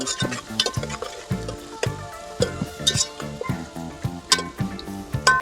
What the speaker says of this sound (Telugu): సన్నగా కట్ చేసిన రెండు మీడియం సైజు ఉల్లిపాయ ముక్కలు వేసుకుందాం వీటిని మంచిగా ఎర్రగా గోల్చుకుందాం